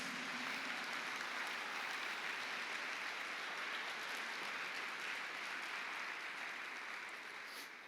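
Sustained applause from a church congregation, a dense steady clatter of clapping that tapers slightly at the end.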